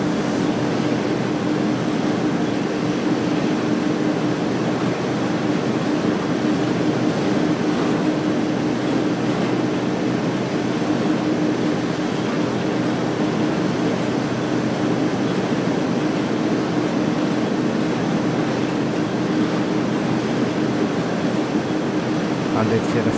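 BNSF ES44C4 freight train on the Cajon Pass route from Barstow to Victorville in Train Sim World 3, a steady low diesel engine hum with a constant tonal drone and rumble, loud and unbroken for the whole stretch.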